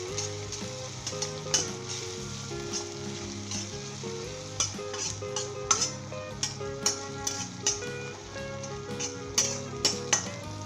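Chopped cabbage with spices frying in a pan, a continuous loud sizzle with regular light ticks and scrapes of stirring throughout, no voices.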